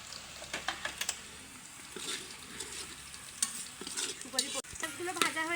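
Onions sizzling in oil for a Belgian duck curry cooked the rural way, with a spoon scraping and clacking against the pan in irregular strokes over the steady frying hiss, no voices.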